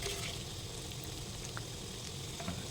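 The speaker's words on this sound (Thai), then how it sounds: "อันนี้ก็ผัดให้ไข่มันสุกได้ที่ก่อนนะครับผม" Fermented fish and egg stir-frying in a pan give a steady, quiet sizzle and crackle with a few small pops, and no talking.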